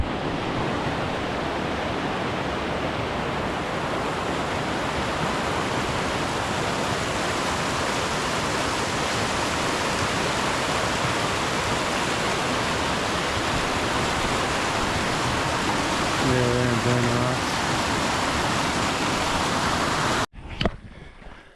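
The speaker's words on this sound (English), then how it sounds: "dueling streams" Mountain streams in the Grand Teton area rush in a steady, dense roar, close and unbroken for about twenty seconds before cutting off abruptly.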